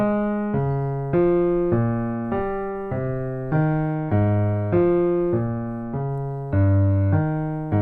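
Piano bass notes played one after another in a steady pulse, each struck and left to decay without being held over the next, close and clear.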